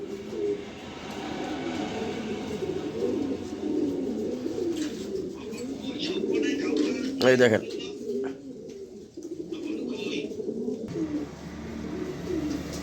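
A pair of pigeons for sale coo in a steady, close, low murmur, with a sharp burst of noise midway and someone briefly speaking over the birds.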